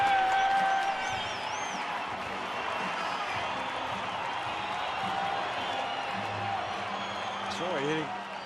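Baseball stadium crowd at a Rockies–Dodgers game with the bases loaded, a broad steady roar of cheering and noise beneath a commentator's voice.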